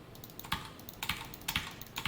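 Keys clack on a computer keyboard in quick bursts of a few strokes, spaced roughly half a second apart, fairly quiet and close, with no voices.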